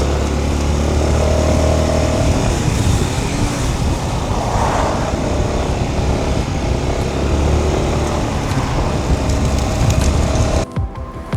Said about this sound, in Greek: τώρα είναι τα φορτηγά